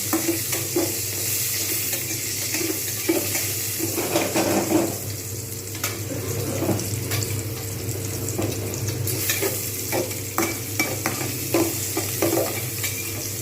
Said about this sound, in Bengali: এইবার আমি এর মধ্যে দিয়ে দেবো পেঁয়াজ। এগুলো কিন্তু আমি খুব ভালোভাবে লাল করে ভেজে নেব।